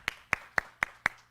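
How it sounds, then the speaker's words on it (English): Five sharp claps in a steady, quick rhythm, a brief round of applause for three boys, close and fairly faint. "give these three boys a round of applause"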